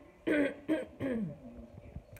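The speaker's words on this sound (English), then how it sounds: "I do have to clear my throat quite often." Three quick, close throat clearings in succession from a person after a partial thyroidectomy, followed by softer breathy sounds.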